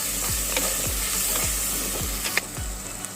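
Whole cinnamon, cloves, cardamom and fennel fry in hot oil for chicken pickle, a steady loud sizzle broken by a regular rhythmic scrape of stirring about every half second.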